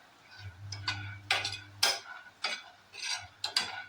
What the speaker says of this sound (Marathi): आपण सुरुवातीला शेंगदाणे जरा भाजून घेऊया नॉनस्टिकचा पॅन आहे हा माझा